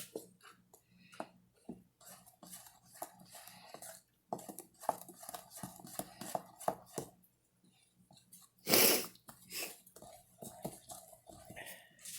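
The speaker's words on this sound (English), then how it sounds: "there's one, and we'll stir that in" A spoon clinks and scrapes against a mixing bowl as flour is worked into a zucchini batter, with uneven stirring strokes, one louder knock near the end, and quiet talk at times.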